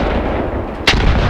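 A grenade explosion in the World War II tactics game Graviteam Tactics Mius Front: one sudden sharp blast near the end of the clip, loud and close, over a dense rumbling battle background.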